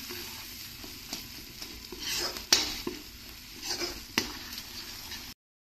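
A spice paste of onion, coconut, ginger, garlic, chili and poppy seed sizzles and fries in oil, with steady frying hiss and repeated scraping stirs of a spoon against the pan throughout.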